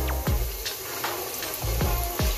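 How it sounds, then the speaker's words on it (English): A flour-dredged pork chop for a Haitian home-cooked dish fries in a pan with a steady sizzling hiss, broken by several sharp clinks and scrapes of utensils close by. "we are now putting in the pork chop"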